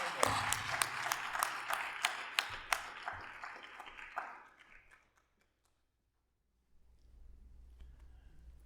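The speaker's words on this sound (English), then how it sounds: "Let's give a big round of applause for Fresno, California." An audience breaks into applause, sharp individual claps standing out in a fairly close, lively round that fades out over several seconds, followed by near silence and then faint room murmur.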